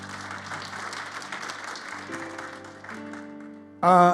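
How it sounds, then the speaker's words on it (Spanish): A church congregation claps steadily for a few seconds, with organ or keyboard chords sounding underneath and swelling louder at the end. "Denle un aplauso fuerte al Señor."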